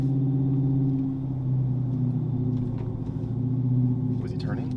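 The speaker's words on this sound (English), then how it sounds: "if I go to downshift and I'm kind of getting on it, obviously there's a little bit of drone vibration" A car fitted with a Flowmaster Super 10 exhaust drives uphill behind a trailer, putting out a low, steady exhaust drone with slight swells on downshift, close and continuous under faint background noise.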